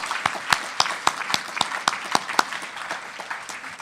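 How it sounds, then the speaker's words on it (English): A round of applause for the speakers at an LA County leadership conference: a modest audience clapping steadily, with individual claps standing out sharply over a softer wash, alone without talk. "Let's give them another hearty round of applause"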